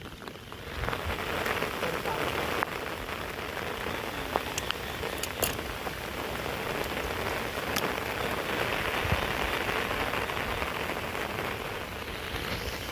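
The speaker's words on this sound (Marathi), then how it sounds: "अरे पाऊस तर काय ऐकत नाही भरपूर लागूनच असं राहिलेलं आहे" Heavy monsoon rain pours steadily by a river during the first flood, a dense continuous hiss of drops drumming on surfaces with no break.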